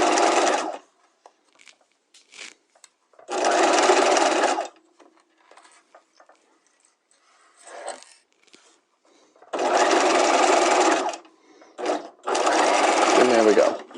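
Sewing machine stitching a pocket lining to the seam allowance in four loud bursts of steady motor whir, separated by quieter gaps with brief taps and a short voice.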